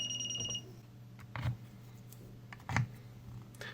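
A Hioki DT4282 multimeter, overloaded, gives a steady high electronic beep that cuts off early, followed by a few faint clicks and handling knocks with no speech.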